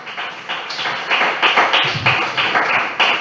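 A church congregation claps in a Spanish-language service, giving a burst of close, fairly loud, uneven applause with irregular tapping peaks that runs throughout and carries no speech over it.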